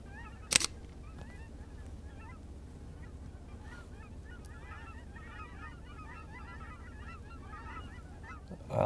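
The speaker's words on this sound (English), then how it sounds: "Island of cranes." Cranes call on a flooded island at the Merced National Wildlife Refuge, a steady chorus of rolling, honking calls carried from a moderate distance beneath a faint background hum, with a brief sharp click near the start.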